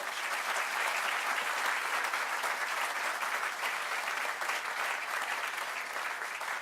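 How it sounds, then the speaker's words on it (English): An audience at a Hispanic Heritage Cultural Institute groundbreaking ceremony gives a sustained round of applause, dense and even clapping from many people lasting several seconds without letup. "Let's give him another round of applause."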